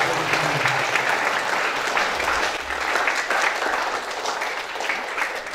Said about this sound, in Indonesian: Kita beri aplaus untuk lulusan yang